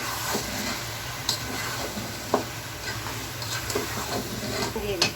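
Marinated meat for tehari sizzling in a pot as it is stirred, a steady frying hiss with scattered scrapes and clicks of the spoon against the pot.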